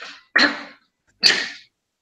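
Two sharp bursts in quick succession, a sneeze-like explosive sound, loud and close, with silence between.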